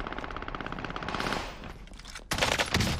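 Automatic weapon fire in Call of Duty on Fortune's Keep: rapid, evenly spaced bursts of gunshots, fairly close, then a louder, harsher burst of fire after a brief lull.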